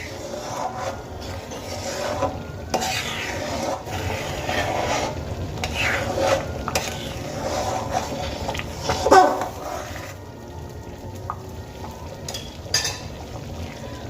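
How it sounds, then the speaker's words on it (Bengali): Methi chana moong dal with sugar is stirred thoroughly in a pot, with repeated rubbing, scraping strokes of a spoon over a low background, continuing at an uneven pace with a few louder knocks. "এবার খুব ভালো করে একবার নাড়িয়ে নেব"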